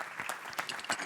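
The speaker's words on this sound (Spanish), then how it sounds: "os ruego un aplauso también para todos" A live audience at a sustainable tourism and mobility event claps together, with a brief spatter of individual claps that sounds quiet and slightly distant.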